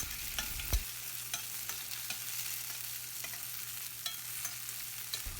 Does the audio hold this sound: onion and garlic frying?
yes